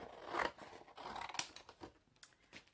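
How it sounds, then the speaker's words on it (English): Scissors cutting a sheet of paper in half for a paper butterfly craft, heard as a quiet series of soft crisp snips and rustles, close by and alone. "I think what I might do is cut this in half"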